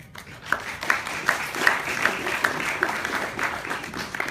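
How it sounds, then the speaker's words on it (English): A senior banquet audience applauds the volunteers at a hypnotist show, a moderate wash of crowd clapping with a few sharper claps standing out at a steady beat. "a nice round of applause for the volunteers"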